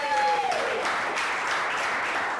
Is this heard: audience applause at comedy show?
yes